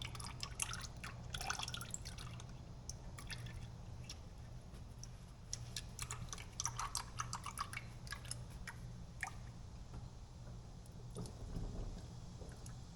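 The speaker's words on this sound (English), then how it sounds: "The motor oil's warm, not hot. And I'm just going to let that drain for a few minutes and then put the plug back in." Warm motor oil draining from a 2015 Honda Odyssey on a lift, a faint steady trickle with scattered drips and small splashes under a low background hum.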